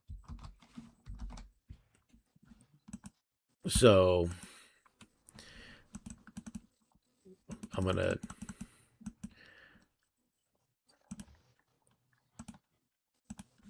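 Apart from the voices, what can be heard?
computer keyboard typing and clicking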